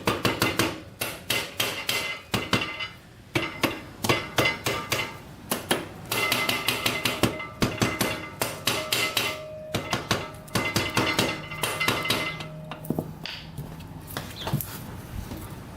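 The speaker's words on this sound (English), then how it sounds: "Sometimes you can crack it loose with a rubber mallet." A rubber mallet knocks at a stuck piston in a Honda 250X fitted with a high-compression piston. The blows are loud, close and dull, coming in a steady rhythm of dozens of repeated strikes with no voices.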